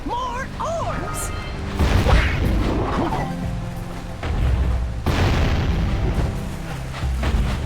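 Cannon firing bombs in the Jak & Daxter video game, repeated heavy booms and crashes over game music and effects.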